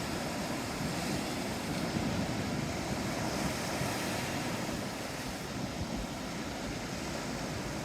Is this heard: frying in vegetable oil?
no